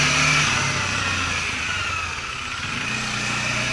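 A Bajaj Dominar 400 motorcycle engine warming up, a steady close idle hum with a slight rise and fall in revs and no talking over it.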